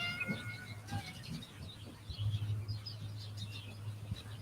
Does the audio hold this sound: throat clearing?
no